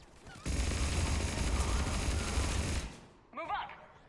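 Sustained burst of mounted-gun fire in the Mass Effect video game, a dense continuous rattle lasting a few seconds, followed by a short voice.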